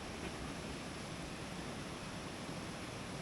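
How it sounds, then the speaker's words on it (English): A Scottish river beside a plunge pool on the West Highland Way, a steady broadband rushing of flowing water with no breaks or voices. "There is just something quite amazing about a Scottish river."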